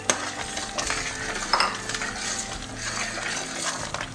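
A spoon swirls egg whites through hot and sour soup in a pot, giving a steady close scraping and clinking with liquid sloshing, with no voices.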